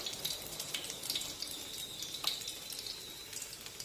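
Egg-batter-soaked bread slice frying in a pan, a steady soft sizzle and crackle with faint bright hiss throughout, close and moderate.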